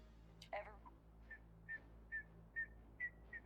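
A game character in Starfield whistles a short tune, a series of clear evenly spaced whistled notes after a brief opening phrase, quiet and close.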